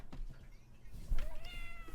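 A pet cat meows indoors in a short rising call near the end, fairly close over a low background hum, with faint movement noises before it.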